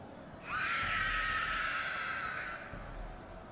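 A scream ability from the Mordor faction in a strategy game, played as a loud, sustained shrill cry lasting about two seconds over a low background rumble, with no speech.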